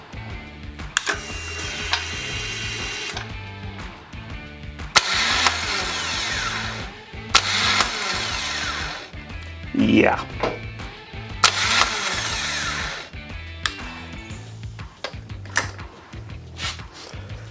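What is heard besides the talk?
Harley-Davidson motorcycle starter failing to start the engine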